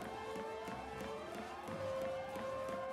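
Sirens blare continuously in the Final Fantasy XIII video game, overlapping wailing tones sweeping up and down with a steady pulsing beat beneath, no talk.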